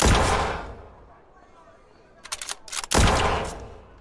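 Gunfire in the space combat game Spacebourne 2: bursts of rapid shots crackle loudly at the start and end, with a cluster of sharp reports in between and a quieter lull mid-clip.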